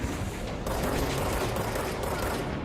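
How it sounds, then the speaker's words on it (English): Sustained rapid gunfire in the video game Control, shots hammering an enemy's shield in a dense, continuous burst with mechanical clatter, loud and steady throughout. "So you gotta shoot him to break the shield"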